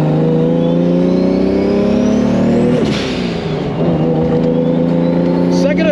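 Toyota MK3 Supra fitted with a short shifter, heard from inside as the engine drones loudly, drops away briefly at a gear change midway, then climbs again.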